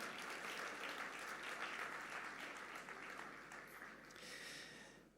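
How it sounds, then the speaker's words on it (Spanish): A church congregation bursts into sustained applause of praise, a dense, even wash of clapping from many hands that swells and then tapers off toward the end, faint and somewhat distant. "Fuerte ese aplauso de alabanza al Señor."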